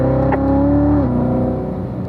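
A car engine on a racetrack, loud and close, holds a steady drone, then its pitch drops sharply at the shift into third gear and it keeps pulling at the lower pitch.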